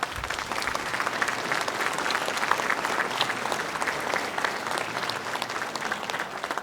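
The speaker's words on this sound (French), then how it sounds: "et je crois qu'on peut l'applaudir." Audience applause at a municipal New Year's greetings ceremony, in tribute to Brigitte Bardot: sustained, even clapping from a large crowd heard at a moderate distance, steady throughout without speech.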